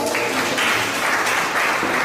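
Continuous audience applause at a Ghanaian community event in Tripoli, a steady dense wash of clapping with slight swells, no voices over it.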